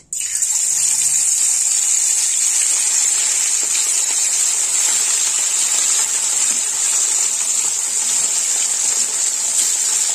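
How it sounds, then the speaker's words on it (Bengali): Parshe fish dropped into hot oil in a wok, bursting into a loud, steady, close sizzle that holds evenly for about ten seconds with no talking. "তো কড়াই দিয়ে দিলাম মাছ।"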